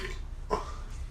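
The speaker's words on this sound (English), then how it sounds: "That's a solid ass legendary burp" A single loud, guttural burp from a man during a podcast conversation, short and close against a low background hum.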